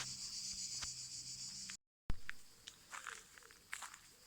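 Crickets chirping at night outdoors in the French countryside between Cahors and Lascabanes on the Compostela route, a steady faint high trill behind soft footsteps and rustling, briefly cut off by a gap.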